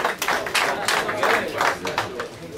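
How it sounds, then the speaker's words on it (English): Crowd applause and clapping at a Muay Thai fight night in a gym, a steady burst of many hands close by that fills the whole stretch, with voices mixed in under it. "Give him another round of applause"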